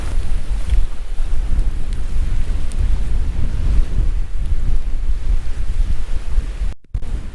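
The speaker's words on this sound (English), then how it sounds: "It's really windy, but I'm just going to pitch it anyway." Strong wind gusts across a lough in the Mourne Mountains, a loud, continuous low rumbling buffet that batters the microphone for the whole stretch, broken by a sudden brief cutout near the end.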